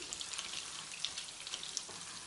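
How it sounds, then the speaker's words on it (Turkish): A spoonful of tomato paste frying in melted butter in a pan, a steady close sizzle with fine crackling pops and no talk over it. "Bir yemek kaşığı domates salçası ekleyin. Salçamızı kavuralım."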